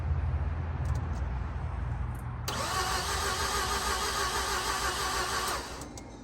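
A green automatic Mazda RX8's rotary engine cranks over on the starter after sitting for 2.5 years, a steady loud whirring churn that kicks in abruptly and holds evenly for several seconds before easing off, with no talking.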